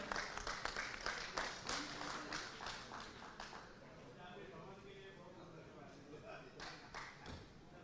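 A gathered crowd at an Indian news stage event claps in welcome as a speaker is called up, with dense, steady applause and individual claps standing out, continuing through the clip at a moderate level.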